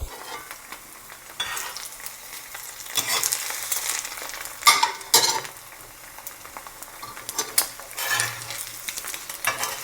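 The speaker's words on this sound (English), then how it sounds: "If you want the white to be crispy, you just let it, fry for a few more seconds perhaps." An egg frying in a pan, a steady close sizzle with bursts of crackling and occasional utensil scrapes, rising and falling in loudness with no voices.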